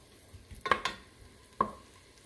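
Onion softening in a pan over a faint, quiet sizzle, broken by a few sharp utensil scrapes and taps against the pan.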